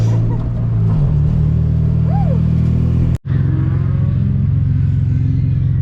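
A loud, raw race car engine with no exhaust drones and rumbles close by, dropping out briefly mid-way before resuming its harsh, steady roar.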